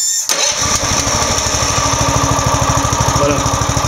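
The engine of a small homemade mini excavator with automatic ignition control catches after a brief starter crank, then chugs in a fast, even, loud rhythm close by.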